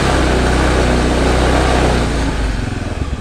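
Carbureted Honda Beat scooter engine revving up close under throttle, a loud steady buzzing drone that holds for about two seconds and then eases into a lower, choppier idle pulse.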